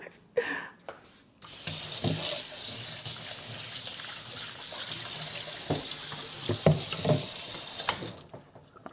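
Water runs steadily from a sink tap while hands are washed, a broad hissing splash with faint scrubbing and splashing bumps, starting after a few brief knocks and stopping abruptly near the end.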